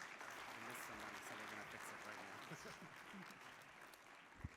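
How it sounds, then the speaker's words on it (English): Round of applause from the audience at an anniversary awards event, continuous crowd clapping heard from a distance under murmuring voices, with one sharp thump near the end. "One more round of applause for this group"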